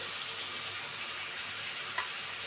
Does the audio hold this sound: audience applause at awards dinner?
no